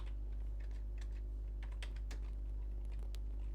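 A terminal command being typed on a computer keyboard, a quick irregular run of light key clicks over a steady low hum, close and clear.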